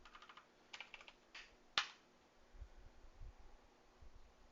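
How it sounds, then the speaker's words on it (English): Typing on a computer keyboard, several quick soft bursts of key clicks followed by one sharper louder clack, then quieter rustling, close and alone without talk. "Am I typing correct?"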